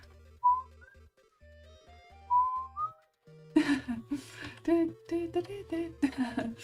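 A voice whistles a bright rising tune in imitation of the opening whistle from the Wii Fit obstacle course game, two short melodic phrases alone, followed by louder sung or hummed notes over a background drone.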